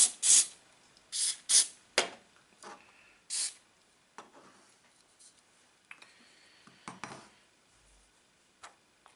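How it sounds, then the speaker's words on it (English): A spray can of super glue activator is used on tabletop tank and vehicle miniatures. It gives several short, close hissing bursts in a quiet room, followed by softer scattered ticks and clicks. "I'm going to give them a spray with the super glue activator"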